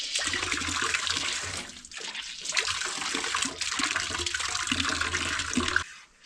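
Rainwater is poured out of a rain barrel outdoors in cold weather, a steady, fairly loud gush and splash with a brief break partway through, then running on until it cuts off near the end.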